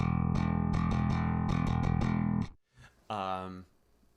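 Electric bass played through a Line 6 Helix compressor set to sharpen the attack as it levels, giving a steady run of punchy plucked notes that stop abruptly, followed by a brief moment of a voice.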